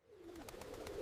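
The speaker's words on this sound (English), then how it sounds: "A pigeon sat on his foot just now." A pigeon coos softly and low, a faint warbling murmur rising over about a second, with a light pulsing flutter and no voices.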